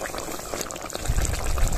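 Curry broth with fried bhetki fish bubbling in a pot for a poppy-seed paste dish, a steady close boiling and gurgling sound that grows slightly louder toward the end.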